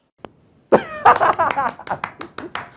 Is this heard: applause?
yes